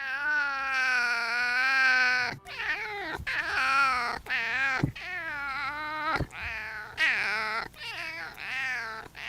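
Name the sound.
cat with a raspy meow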